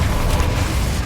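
Loud, continuous rumbling blast from the Bombarda and Confringo explosion spells in Hogwarts Legacy, a dense booming roar filling the whole moment with no gap or voice.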